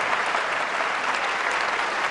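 Audience at a televised professional wrestling match applauding steadily and loudly, a dense continuous clapping from a crowd filling the whole stretch.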